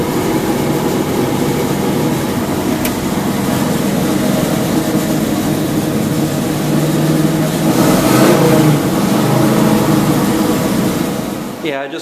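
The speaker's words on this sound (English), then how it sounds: "what I'm going to do now is run it for about a half hour, keeping the RPM up so the cam gets a lot of oil to break it in" A 1969 Camaro V8 with a new oil pump held at high, steady RPM during cam break-in, a continuous loud engine roar that swells slightly near the end before dropping off.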